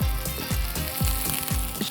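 Onions and whole spices such as mace, cinnamon and cardamom fry in hot oil for keema pulao, a bright sizzle broken by regular low thumps roughly every quarter second as the pan is stirred.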